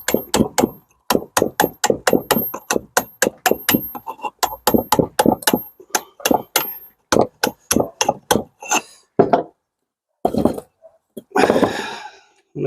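A flat steel chisel struck by a hammer chips cement mortar off a brick arch in rapid, sharp, close metallic blows, dozens of them in steady runs with brief gaps, followed by a few scraping and crumbling knocks.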